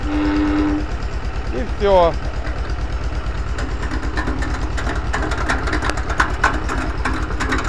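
An electric motorized vegetable slicer, converted from a manual one, starts up and runs with a steady rhythmic mechanical drone and rising rattling clatter, while someone talks briefly over it.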